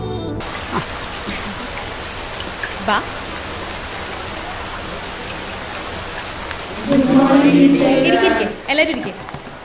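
Rain falls steadily on a surface, an even hiss throughout; toward the end a voice speaks briefly over it.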